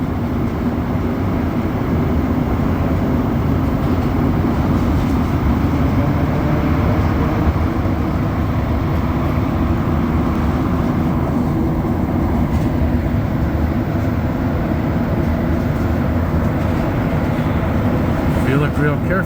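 A continuous loud rumbling roar of a metro train running through a tunnel, steady throughout with no breaks.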